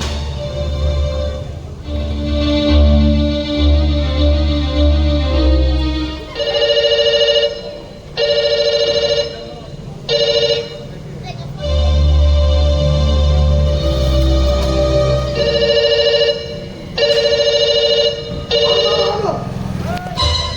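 A telephone rings in a Telugu comedy drama with repeated bursts of tonal ringing separated by short gaps, loud and close, while voices speak between and over the rings.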